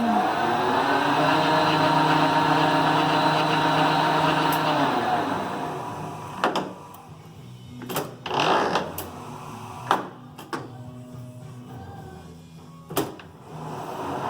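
A Clausing Colchester 12 gear-head lathe runs with a steady geared whine for several seconds before winding down, followed by scattered clunks and knocks from the machine's levers.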